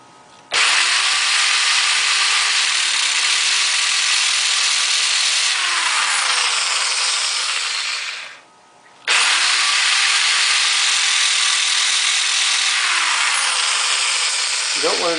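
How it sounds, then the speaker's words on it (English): A power drill boring out the head of a stuck screw on a circuit board in an automated frozen-pipe prevention setup: a loud, steady whine that runs about eight seconds, stops briefly, then starts again. "you're going to have to drill the whole head out so that you can get"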